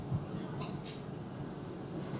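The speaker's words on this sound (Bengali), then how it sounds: "ট্রেন আমাদের ছেড়ে দিল নিউ জলপাইগুড়ি স্টেশন" Inside a new Vande Bharat sleeper train running from Howrah to Kamakhya as it pulls out of New Jalpaiguri station: a faint, steady low rumble with soft cabin hiss and light knocks.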